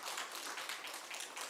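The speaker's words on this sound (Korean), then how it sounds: "박수 한번 세게 쳐봐 그러면은." A church congregation claps hands during a Sunday worship service, a dense, steady patter of many hands filling the short moment without pause.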